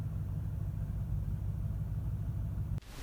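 Lexus GS430 V8 running at idle on LPG after a cylinder head rebuild, a steady low, quiet rumble that cuts off abruptly near the end.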